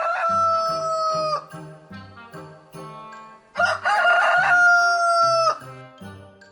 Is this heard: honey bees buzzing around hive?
no